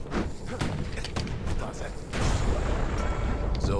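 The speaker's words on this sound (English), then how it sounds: "Good, the turrets are working." Turrets firing in the Bastion video game, heavy repeated thumping shots over a dense, loud game soundscape with a voice talking throughout.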